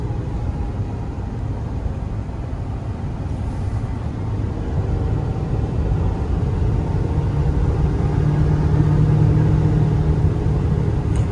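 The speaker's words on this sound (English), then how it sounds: "runs and drives straight, shifts smooth, good power." A 2015 Ford F550 stakebed truck drives along with a steady low engine drone and road rumble, rising slightly in loudness toward the end, with no talking.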